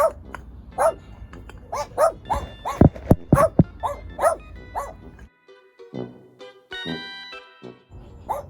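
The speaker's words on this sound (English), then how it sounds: "I've got 2 barking at me now." Two dogs bark repeatedly at close range in quick bursts, some yips and whimpering between barks, with a short quieter pause before more barking and whining toward the end.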